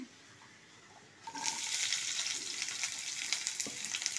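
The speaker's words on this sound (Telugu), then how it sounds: "కొంచెం వేసి ఉల్లిపాయ ముక్కలు కూడా ఒక్క వేపుతానండి." Onion pieces drop into hot oil in a pan after a quiet start, and a loud, bright sizzle takes over and keeps crackling steadily with occasional pops to the end.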